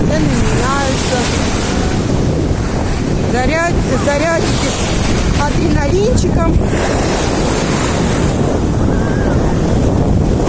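Waves of the Sea of Azov break steadily along the shore at Urzuf, a constant broadband wash with wind buffeting the microphone, while someone talks over it throughout.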